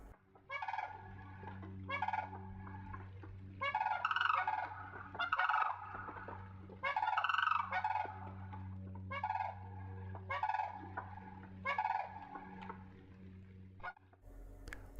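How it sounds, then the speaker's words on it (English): A wild turkey gobbles from a bog in late summer. It gives a series of loud, rattling calls in repeated bursts, with a low steady hum running beneath them. "Roy continues to call from Bog Central."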